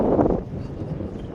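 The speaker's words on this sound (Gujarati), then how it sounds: "આજે પવન ઓછું થયું નથી" Wind blowing steadily across open water where a fishing boat is out, a loud continuous rushing that buffets the microphone, strongest at first and then easing to a constant rumble.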